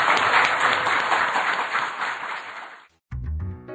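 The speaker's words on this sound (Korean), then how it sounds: "우리 김종대 의원님 큰 박수로 감사의 뜻을 표하겠습니다" Loud clapping from a Korean broadcast audience thanking lawmaker Kim Jong-dae runs for about three seconds, then cuts abruptly to silence before a different tonal sound begins.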